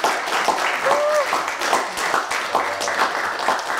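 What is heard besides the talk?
workshop audience clapping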